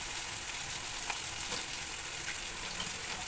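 Onion frying in a pan, a steady bright sizzle with faint crackles running throughout at moderate loudness, with no voices.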